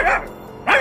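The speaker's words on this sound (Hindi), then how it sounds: "फिर राजा जोर जोर से भौंकता है।" A dog barks loudly twice, two short sharp barks close by, separated by a brief pause.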